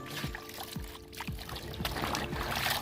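Clothes sloshed and rinsed by hand in plain water, with irregular splashes, pours and trickles close by, steady and moderately loud with no voices.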